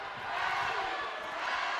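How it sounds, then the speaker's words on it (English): A basketball crowd in an arena chanting "rally" during a technical foul free throw, a steady, muffled roar of many voices with no distinct beats. "Crowd is now chanting rally."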